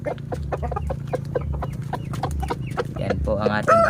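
Aseel blue chickens, a large game fowl breed, cluck in a busy run of short, sharp calls close by, with a steady low hum underneath and a brief higher squawk near the end.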